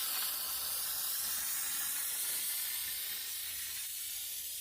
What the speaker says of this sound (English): get a bottle of spray adhesive where we're going to lay the track.